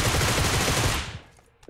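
A Groza rifle firing a full magazine in PUBG Mobile, one loud, rapid continuous burst of automatic fire that cuts off after about a second and leaves a faint tail.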